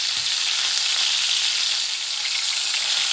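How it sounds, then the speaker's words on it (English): Pork chops frying in a pan make a loud, dense, continuous sizzle close up, steady all the way through with faint low clatter and no talking. "I flip them one more time."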